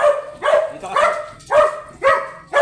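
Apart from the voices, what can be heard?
chocolate Pomeranian dog barking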